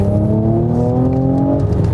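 A Mercedes-AMG C 43 Coupé engine roars loudly and steadily at high revs in Sport Plus mode, a deep aggressive drone with rising harmonics, heard up close without any talk.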